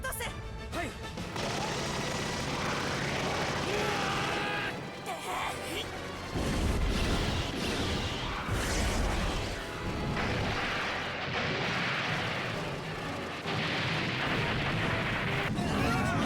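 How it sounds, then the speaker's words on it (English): Anti-air guns blaze in a Gundam SEED Destiny battle scene, a continuous loud barrage of rapid gunfire and booming impacts layered with music and effects, with a brief lull partway through before the firing resumes. "Now, those anti-air guns do a lot of work."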